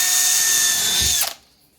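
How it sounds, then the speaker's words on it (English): A power drill bores a hole for an M6 tap, a loud, steady high whine held for just over a second, then cut off abruptly with a brief low knock as it winds down to near silence. "We're gonna drill a hole."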